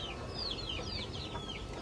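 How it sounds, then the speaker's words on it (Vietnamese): Large heavy-weight chickens raised for meat on a Vietnamese farm cluck steadily with a few higher calls, close and alone over a constant low background hum. "Con này toàn là gà lớn ký không á."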